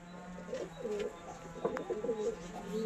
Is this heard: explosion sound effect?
no